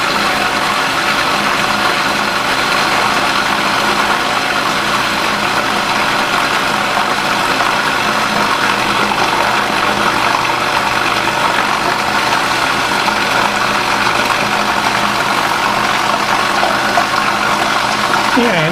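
A kitchen machine whirs steadily, blending eggs into a thickening, creamy salad dressing; the motor hum runs loud and continuous throughout without pause.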